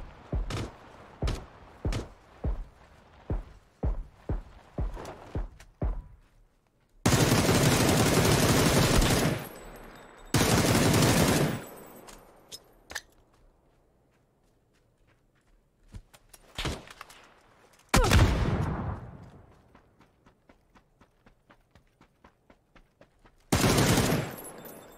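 Gunfire in PUBG: sharp single shots in quick bursts, then long dense automatic volleys, some near and loud, others more distant, with quieter gaps between exchanges.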